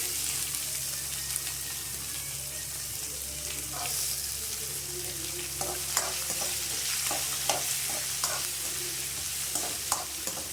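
Chopped onions frying in a pan with roasted cashews for upma, a continuous close sizzle punctuated by the scrape and tap of a stirring spoon, no voices.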